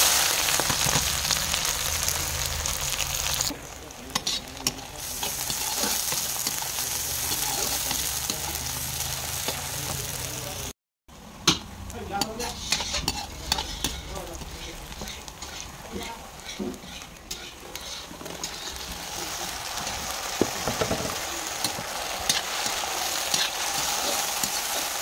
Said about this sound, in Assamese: বিলাহীখিনি অকণমান সময় ভাজি